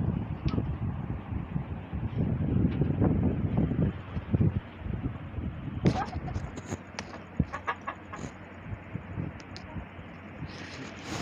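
Hens on a West Bengal farm cluck intermittently nearby while people talk over them; the clucking grows clearer toward the end.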